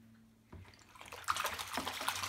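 Soapy water swished around in a bowl, faint at first then rising into close splashing and sloshing that keeps going to the end.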